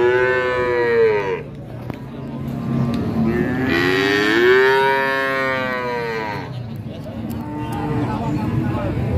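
Young Pegon cattle at a livestock market give long, loud, drawn-out moos, two or three calls in succession with market noise behind them.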